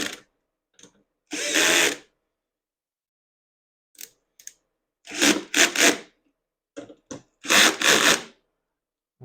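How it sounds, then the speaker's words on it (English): A power drill on a low torque setting drives screws into the plastic housing of a Mastercraft snowblower, in short separate bursts of whirring and grinding with silence between them. "if you're using a power tool, you are screwing into plastic."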